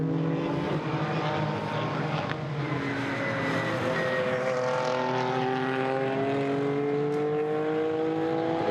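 GT4 race cars on the Nürburgring circuit during a 2019 European Series race, engines accelerating with rising pitch as they come out of a corner, several cars overlapping in a loud, sustained roar.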